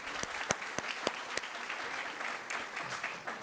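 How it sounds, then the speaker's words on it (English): A lecture audience applauding steadily, dense clapping with a few sharp louder claps near the start, no voices over it. "Let's give them a round of applause."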